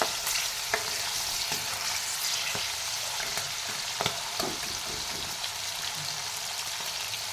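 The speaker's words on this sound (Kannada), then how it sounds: "ಈ ಥರ ಡೀಪ್ ಫ್ರೈ ಮಾಡಿದ್ರೆ ಟೇಸ್ಟ್ ಜಾಸ್ತಿ ಇರೋದ್ರಿಂದ ನಾನು ಡೀಪ್ ಫ್ರೈ ಮಾಡೀನಿ" Fresh green peas deep frying in hot oil give a steady bubbling sizzle with scattered sharp pops and crackles, close by, with no voices.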